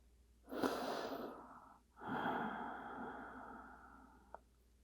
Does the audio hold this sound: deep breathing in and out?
yes